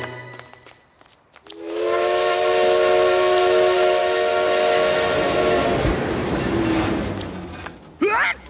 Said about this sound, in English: I just need to pull my train around.